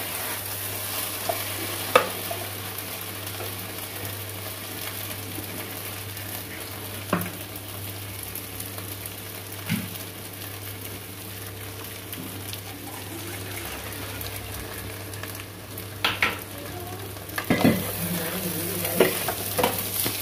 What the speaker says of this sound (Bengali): 2-3 মিনিটের মতো আমি এটাকে নাড়াচাড়া দেব যাতে নিচে লেগেও না যায়